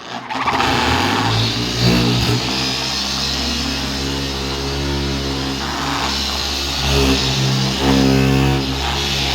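Dual-action car polisher spinning against a car's body panel, a steady loud mechanical whine and hum that carries on throughout with slight shifts in pitch as it works over the curve, close to the machine with no talking.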